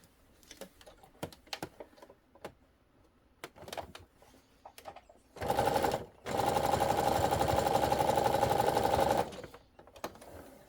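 Sewing machine stitching a fabric steering wheel cover seam: after scattered light clicks and handling, a loud steady motor whir starts, stops briefly, then runs continuously for several seconds before cutting off.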